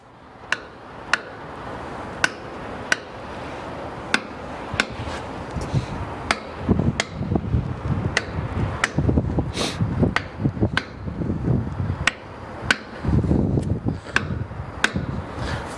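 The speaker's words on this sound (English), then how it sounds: "he's going to take a hammer and he's going to test every bolt and hit it" Sharp metallic hammer taps on the manway bolts of a rail car, struck one after another at a steady pace, ringing over background rumble and clatter.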